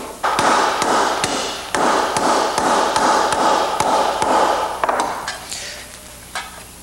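Rapid metallic hammer taps on a metal pin tray ring out in a steady rhythm over a bright, shimmering hiss, then slow and fade toward the end.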